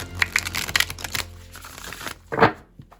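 A deck of oracle-style cards shuffled by hand in bed, a run of soft riffling and flicking bursts over about two seconds, then a sharper slap as the cards are squared, close and fairly quiet.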